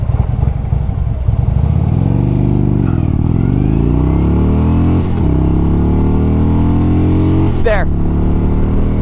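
A Harley-Davidson Road Glide with a 6-speed transmission pulls away hard from a standstill, its loud, close engine rising in pitch through repeated gear changes with brief dips between shifts.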